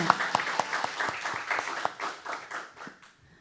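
A church congregation at a Sunday service claps in an even rhythm, sharp distinct hand claps about four per second that soften and trail off toward the end.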